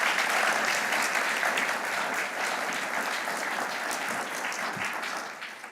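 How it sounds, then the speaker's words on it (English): Sustained applause from a seated audience honoring the SpaceX Crew-5 astronauts at a NASA post-flight intern event, steady and even for several seconds before tapering slightly at the end. "One more round of applause for the crew."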